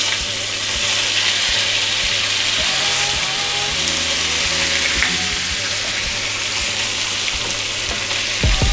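Salmon searing in a hot pan with melted butter and a squeeze of lemon, giving a loud, continuous sizzle and crackle with a few faint scraping clicks, with no talking.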